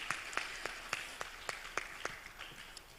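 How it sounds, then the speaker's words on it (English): A small audience at an international publishers' congress claps for Ana Maria Cabañeras, giving a faint, sparse round with distinct individual claps spaced out rather than a dense roar. "Give her a round of applause."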